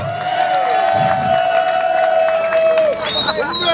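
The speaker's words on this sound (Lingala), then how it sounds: "Est-ce qu'on peut l'encourager par les applaudissements?" Rally audience at a UDPS party anniversary event applauding and cheering in a sustained, dense wash of clapping and crowd noise, with a sustained tone and voices running through it.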